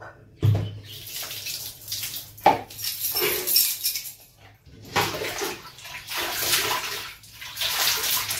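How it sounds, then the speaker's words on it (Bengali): A pillow cover soaked in a tub of water: splashing and sloshing as the fabric is pushed under, with a few clattering knocks of a container, in uneven bursts over several seconds. "এবার ভিজিয়ে দিই ওয়ারটা।"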